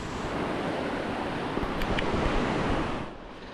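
Loud, steady roar of a high, fast river running through class 3-4 rapids with water well above its usual level, a broad rushing wash that eases slightly near the end.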